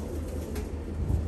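A pigeon cooing in a loft, a low soft coo standing out briefly near the end over steady background noise.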